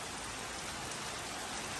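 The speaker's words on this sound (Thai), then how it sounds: "แต่ฝนแรงมากค่ะ" Heavy rain pours down in a steady, dense hiss with no breaks, fairly soft and even throughout, with no voices over it.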